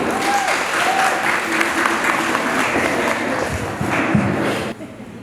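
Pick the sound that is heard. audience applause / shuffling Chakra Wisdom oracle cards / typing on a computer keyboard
audience applause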